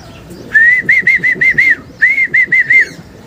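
Racing pigeons arriving home after a 70 km race from San Rafael, Bulacan to Talavera, Nueva Ecija, greeted by a series of loud, rhythmic rising whistles in two bursts, close and clear.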